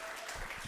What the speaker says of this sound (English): What a round of applause for everybody you've seen tonight so far.